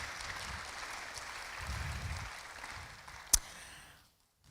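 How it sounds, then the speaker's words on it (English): Audience applause for volunteers at a Catholic school PTO presentation, a steady wash of many hands clapping that holds for about four seconds, one sharp louder clap near the end, then quickly fades out. "So if you'd give these volunteers a round of applause"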